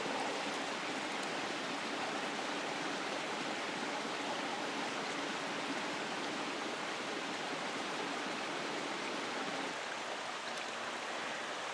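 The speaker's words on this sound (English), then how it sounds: "There's a creek over in there and a creek here" Near a Florida forest planting site, a creek flows steadily, a constant broad rushing of water that stays even and uninterrupted throughout, with no voices.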